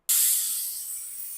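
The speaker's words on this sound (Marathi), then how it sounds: "आता मी कुकर उघडत आहे" Steam bursts out of a pressure cooker cooking chicken in a sudden sharp hiss that stays strong and slowly fades, with nothing else heard.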